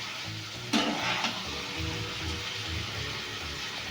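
Ridge gourd and potatoes sauté in a pan with a steady sizzle throughout, and a sharper stir or scrape comes near the start and again about half a second later; nearby, no voices.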